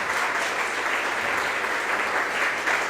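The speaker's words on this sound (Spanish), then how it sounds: "Un fuerte aplauso para el Padre." A crowd applauds steadily for a priest at a church gathering, a dense, even wash of clapping that holds at a constant level throughout without a break.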